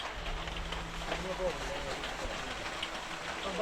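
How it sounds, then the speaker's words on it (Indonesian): Rain falling on a mountain trail on Mount Lawu, a steady moderate hiss of drops on the ground and surfaces, continuous throughout with a faint low rumble beneath. "Hujan pun datang."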